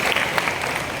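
Audience clapping at a school Hindi Diwas speech, a brief burst of scattered applause from a crowd in a hall.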